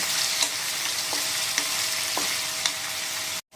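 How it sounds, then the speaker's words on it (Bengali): Paneer sizzles and crackles in hot oil in a pan, a steady frying hiss broken by a few light scrapes and taps of a utensil. "আর পনিরগুলো কিন্তু খুব বেশি করে ভাজবো না, হালকা ভেজে আমি আবার উঠিয়ে নেব।"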